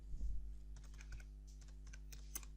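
Steady, quiet typing of C++ code on a computer keyboard, soft key clicks tapping in an irregular rhythm over a low constant hum, with no voices.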